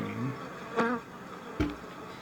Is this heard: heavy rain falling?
no